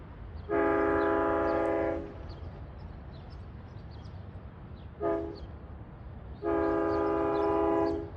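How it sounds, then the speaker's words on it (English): A Long Island Rail Road train on the Montauk Branch sounds its K5LL air horn: a long chord blast, a very short toot, then another long blast, loud and clear over a low rumble of the train, with no voices. "Nice K5LL horn on him"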